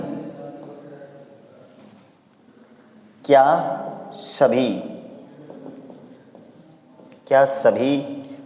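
Chalk or marker writes a line on a classroom board in a mathematics class, producing two short scratchy bursts and a third later, close by and under someone speaking steadily.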